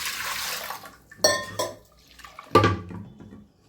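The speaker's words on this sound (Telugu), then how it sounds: "ఇప్పుడు కందిపప్పుని చక్కగా కడుక్కుందాము." Toor dal is washed in water in a pot. Soft splashes and sloshes come in a few brief bursts, close and fairly quiet, with pauses between them.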